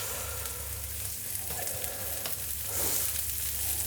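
Chopped onions fry in a pan with chilies for a shepherd's pie, giving a steady close sizzle and crackle that swells slightly near the end, with no talking.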